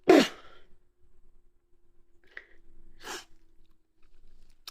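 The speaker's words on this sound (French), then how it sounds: "Excusez-moi, j'ai éternué." A single sharp sneeze bursts out close and loud in a quiet kitchen, followed by soft breathing, a faint clink and a brief second exhale.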